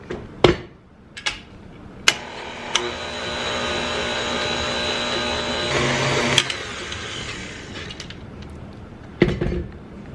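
KitchenAid stand mixer beating cake batter: the motor hums in a steady mechanical whir for several seconds between sharp clatters and knocks at the start and end.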